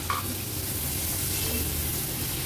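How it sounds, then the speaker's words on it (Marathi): Chopped small tomato being stirred into an onion masala frying in a pot, with a steady close sizzle and brief scraping stir sounds, no talking. "व्यवस्थित ह्या कांद्यामध्ये तो मिक्स करून घेते।"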